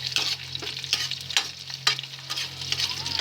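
Chopped hotdogs frying in a pan, an up-close sizzle broken by rhythmic stirring scrapes about every half second over a low steady hum.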